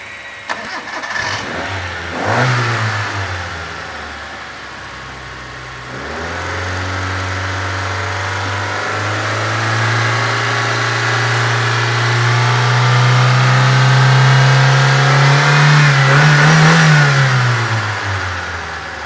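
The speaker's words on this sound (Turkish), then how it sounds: "Aracımızı bir çalıştırıp sesini sizlere dinletelim." A 1998 Hyundai Accent with a 1.3 engine that burns oil and smokes blue cranks and fires, settles into a rough idle, then revs up in long rising pulls, loud and close, with no talking.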